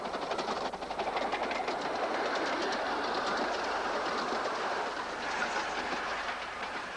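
A miniature steam train on the Romney, Hythe & Dymchurch Railway rattles steadily along the rails with a continuous clickety-clack rhythm and a soft hiss, heard fairly close with no voices.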